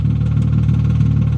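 Infiniti G35 Coupe idling with a Z1 Motorsport single exit exhaust, giving a steady, deep, pulsing rumble close to the microphone.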